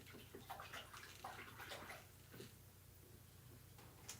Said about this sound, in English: So I'm gonna wash this paintbrush.